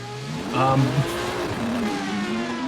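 A drift car engine revs and bounces off the limiter during a competition run, the loud, uneven engine note rising and falling beneath a commentator talking over it.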